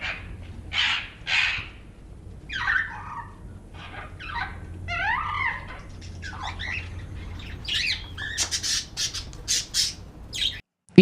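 Loud harsh squawks from several birds, repeated irregularly over a low steady background hum, close by with no talking.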